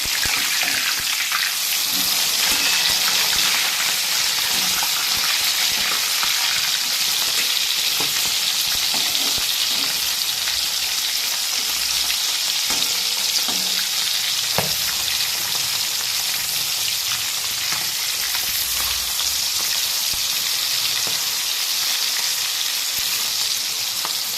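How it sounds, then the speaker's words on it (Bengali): Fresh hilsa fish from the Rupnarayan river fries in a pan with a loud, continuous sizzle that holds steady throughout, broken by occasional stirring scrapes close by. "ইলিশ মাছ তো একটু কম ভাজলেই ভালো টেস্টটা বেরোবে"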